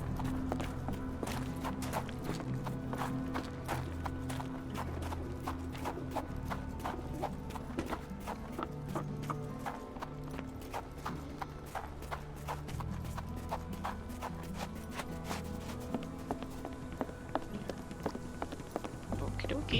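Rapid clip-clopping horse hooves in a steady galloping rhythm in the video game Sherlock Holmes: The Awakened, layered with game background music and occasional speech.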